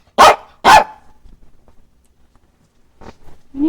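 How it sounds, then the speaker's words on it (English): Two loud, close barks from a dog indoors in quick succession, followed by quiet shuffling and a brief low murmur near the end. "You need to stop barking."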